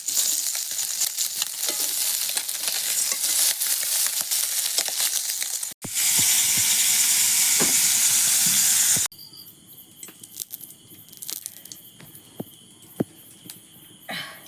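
Small puti fish caught from a rice field fry in hot oil, a dense, steady sizzle close up for most of the stretch before it drops to quieter kitchen noise with occasional clinks.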